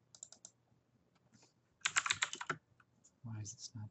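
Bursts of typing on a computer keyboard while laying out a photo book, with quick clustered key clicks, a louder dense flurry midway, and a short spoken phrase at the end.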